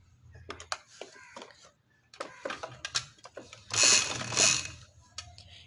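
Sewing machine stitching light green trouser fabric, bursts of rapid mechanical clatter separated by short pauses, close and fairly clear, with a louder whirring stretch near the end.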